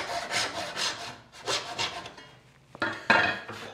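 A hand saw cuts through a wooden dovetail piece in steady back-and-forth rasping strokes, close and fairly loud, a few rhythmic passes with a short pause before the final strokes.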